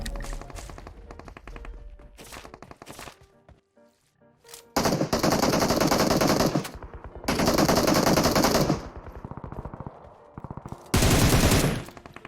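Groza rifle gunfire in PUBG Mobile, with a few short bursts and single shots early on, then long, loud, sustained automatic bursts separated by brief pauses.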